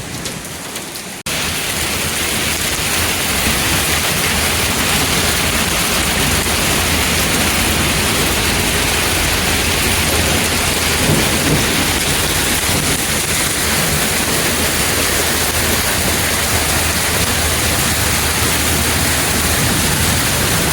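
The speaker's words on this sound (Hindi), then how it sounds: "बहुत तेज़ बारिश शुरू हुई" Heavy monsoon rain pours steadily and loudly during flooding in Abbottabad, Pakistan, a dense unbroken roar of drops hitting surfaces close by, with no voices.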